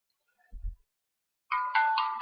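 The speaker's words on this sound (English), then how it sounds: "that was my phone powering on" A mobile phone powering on plays its startup chime: a short low thump, a pause, then a bright sustained electronic tone of layered notes rising in steps, fairly quiet and heard alone without talk.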